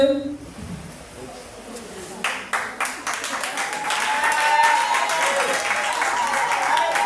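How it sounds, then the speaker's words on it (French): A church congregation breaks into applause for the Lord during a back-to-school service, the clapping building from scattered claps into steady, dense applause that carries on loudly to the end. "Acclame le Seigneur pour l'encourager."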